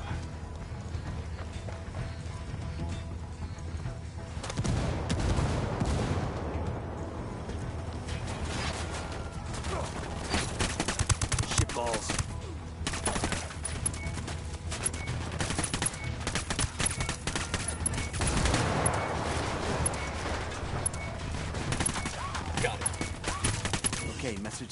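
Gunfire in the tactical shooter Ghost Recon Wildlands: dense, continuous bursts of shots and rapid automatic fire, loud and close, running through the whole stretch of combat with no voices heard.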